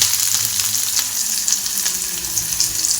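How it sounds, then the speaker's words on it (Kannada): Medium-size chopped onion frying in a hot pan of oil for a North Karnataka dish, giving a loud, close, continuous sizzle with crackling pops. "ಮೀಡಿಯಮ್ ಸೈಜಿನ ಕಟ್ ಮಾಡಿ ಇಟ್ಕೊಂಡಿದ್ದು ಒಂದು ಈರುಳ್ಳಿ ಹಾಕ್ಕೊತಾ ಇದ್ದೀನಿ."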